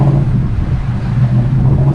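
A rented boat engine revs loud and close with a steady throaty rumble and a few rough pops, heard at a Pattaya beach with no talk over it.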